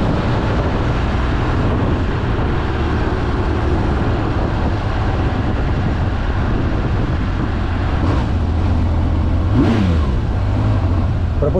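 A six-cylinder Honda CBX1050 motorcycle engine runs loud and close throughout, a dense steady roar with a brief rising rev surge near the end.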